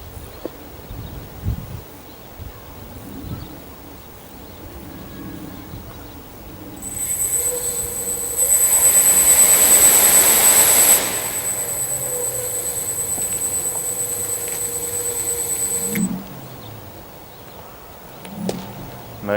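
Tarot multirotor drone motors spin up on a test flight, a steady high whine with strong tonal bands that rises loudly, holds for several seconds, then cuts off, with quieter outdoor background before and after.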